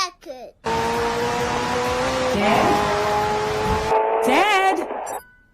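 A race car on a track gives a loud, steady engine whine with rising and falling pitch during a lap, briefly shifting mid-run before cutting off, with short vocal sounds at the start and end.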